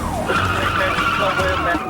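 A stolen police cruiser skids hard during a police chase, its tires squealing loudly and continuously over engine roar for a couple of seconds.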